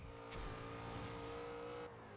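A Nissan GTR engine from Forza Horizon 2 holds a steady, quiet drone with a faint tonal whine. It sits in the background and drops away slightly near the end, with no voices.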